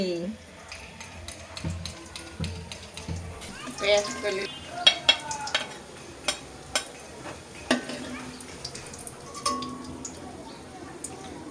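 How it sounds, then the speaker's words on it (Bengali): Onions and spices frying in a small pan, stirred with sharp scraping clicks over a low sizzle, while a person talks throughout. "সব অল্প অল্প করেই ভাজি করছি"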